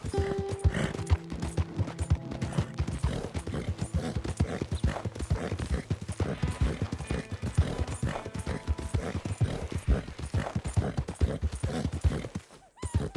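Horse hooves gallop in the video game Red Dead Redemption 2, a fast, continuous clip-clop rhythm, close and clear throughout, with a brief dropout near the end.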